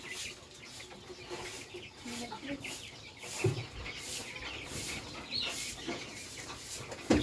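Chickens cluck faintly in the background outdoors in Cagayan Valley, scattered calls over a rustling ambient noise.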